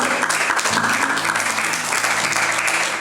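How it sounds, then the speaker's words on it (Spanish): Church congregation applauding during a Bible class on Isaiah: brief, steady burst of many hands clapping, with a faint tonal hum underneath. "Dale fuerte aplauso al Señor"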